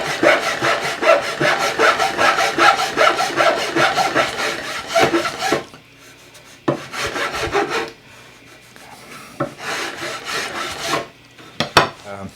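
Hand-sanding a curved wooden slat for a Greene and Greene style gate: steady rapid back-and-forth rasping strokes, close and loud, then a pause and a few sparser, quieter scrubbing passes.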